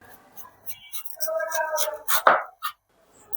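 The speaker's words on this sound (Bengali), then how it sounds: "কলার খোসাকে কেটে নিচ্ছি।" A knife cuts through the peel of a green banana in several short, close chopping strokes, with quiet gaps between the cuts and no talk.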